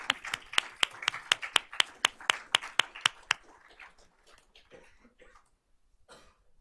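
An audience at a board of trustees meeting gives a short burst of sharp, distinct claps, about a dozen loud, evenly spaced hits. The clapping fades into scattered faint taps, shuffling and a cough.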